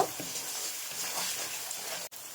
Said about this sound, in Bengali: খুব ভালোভাবে নেড়ে ছেড়ে ভেজে নেব পেঁয়াজটা লাল হওয়া পর্যন্ত